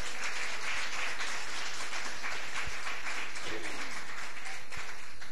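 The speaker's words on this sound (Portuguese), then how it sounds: "Aplaude Jesus Cristo de Nazaré." A church congregation applauds during a Wednesday worship service, a steady wash of many hands clapping that stays even and moderately distant throughout, with some crowd noise mixed in.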